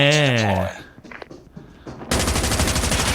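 Rapid automatic gunfire from Call of Duty Mobile during a Gun Game team fight, a dense burst of close shots that starts abruptly after a short spoken phrase and some quieter in-game noises.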